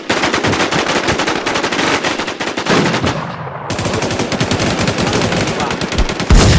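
Loud, close automatic rifle fire in the survival shooter Infestation on the Rocky Ford map, fired in long rapid streams with a short pause midway, while a voice speaks faintly underneath.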